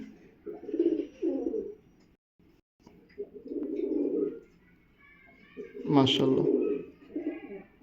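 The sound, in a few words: pigeons cooing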